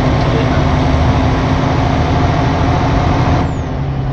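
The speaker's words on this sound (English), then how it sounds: "The engine's quite nice as well." A truck engine in a European trucking simulation game runs as a steady, loud, low diesel drone with constant rumble, easing slightly near the end, with no talking.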